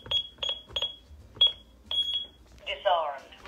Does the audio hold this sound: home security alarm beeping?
yes